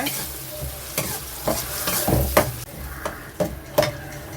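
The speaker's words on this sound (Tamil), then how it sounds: "நம்ம அரைச்சி வச்ச பேஸ்ட் இதில் ஆட் பண்ணியிருக்கேங்க அப்படியே கொஞ்ச நேரம் கிளறி விடுங்க" Ground masala paste for an egg curry sizzling in a pan as it is stirred, with rhythmic scraping strokes every half second or so over a continuous fry, close up and without talk.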